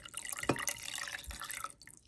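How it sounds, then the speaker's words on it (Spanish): Cold water being poured into dissolved gelatin, a short close splash and trickling gurgle that sputters in bursts for about two seconds before stopping. "ahora le voy a agregar el agua"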